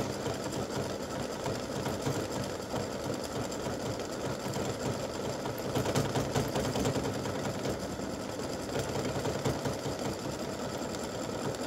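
Sewing machine stitching a satin stitch around the edges of a breast cancer awareness ribbon, a fast, even, close buzzing whir running steadily without pause.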